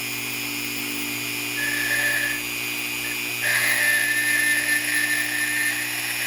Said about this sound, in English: I'm going to just start drilling right here.